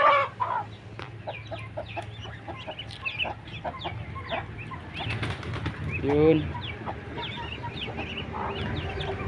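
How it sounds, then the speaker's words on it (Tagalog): Chickens cluck and squawk nearby in a busy backyard flock, with a bird call or two and a brief word spoken in Filipino over them. "May mga manok din kami dito"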